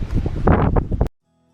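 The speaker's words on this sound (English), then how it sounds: "It's always windy up here, but not like this." Strong gusting wind at beehives buffets the microphone in a loud, rumbling roar for about a second, then cuts off abruptly into near silence.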